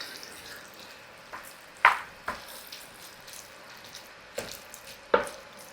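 Eggplant caponata with pepper and fresh basil is stirred in a pan, with a few sharp scrapes and clinks of a utensil spaced over a quiet, faint background.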